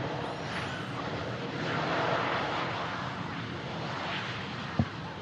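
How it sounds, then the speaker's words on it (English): An Airbus A350-1000 airliner landing and braking on the runway, a steady broad roar of engines and rushing air heard from a distance, swelling slightly midway, with one brief sharp knock near the end. "Such a long aircraft, the A350 1000."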